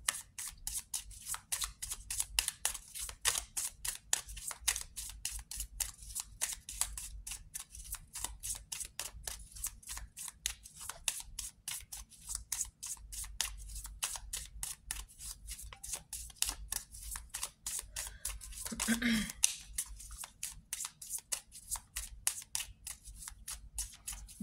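Tarot cards are shuffled in a steady, rapid riffle of close, crisp ticks that runs throughout with no talk.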